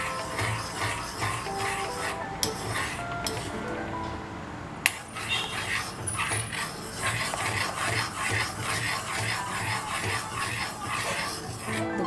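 Sugar caramelising in a pan for plum cake is stirred continuously, giving steady scraping and rubbing with occasional clinks of the utensil against the pan, moderately loud throughout; no speech.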